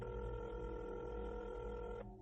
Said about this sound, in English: Beth grabbed the phone that hung on the wall above the kitchen counter, and she called her daughter, Meg.